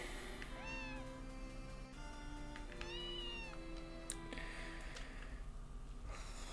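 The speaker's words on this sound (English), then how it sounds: "It's a little cat." Small cat in the video game Harvest Moon: A Wonderful Life, giving two clear rising-falling meows over a steady game background, followed by fainter softer cries.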